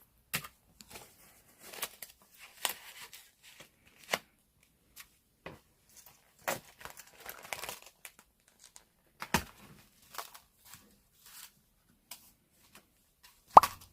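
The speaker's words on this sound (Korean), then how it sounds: "3만원 세어서 넣어줄게요." Paper play-money bills are counted and handled for savings, producing sparse, quiet crisp flicks and rustles in irregular bursts, close up against near silence.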